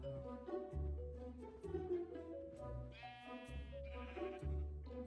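Sheep in a video game bleating several times in quick succession, clear and close with short wavering cries, alongside deeper livestock calls.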